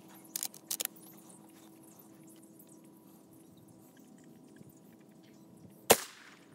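A Winchester 1892 takedown lever-action rifle chambered in .32-20 fires one sharp, fairly distant shot near the end, after a couple of faint metallic clicks early on in an otherwise quiet outdoor setting.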